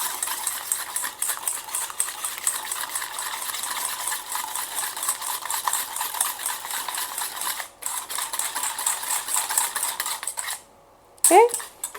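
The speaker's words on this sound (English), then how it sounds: "And we're just gonna whisk that in." Egg and sugar whisked together in a bowl for crème caramel, a steady fast rattle of metal tines against the bowl running nearly throughout, pausing briefly near the end.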